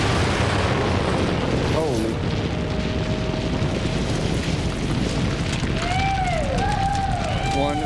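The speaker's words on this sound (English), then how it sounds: "One very large explosion just went off." A huge blast on a rock face, heard from about 1,500 feet away, rolls out as a loud sustained roar filling the whole stretch while a man exclaims.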